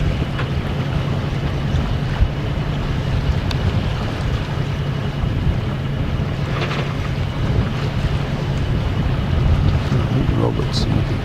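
A sailing boat moves through the sea off the Moray coast, with constant wind buffeting the microphone and a rushing wash of water, steady and loud throughout.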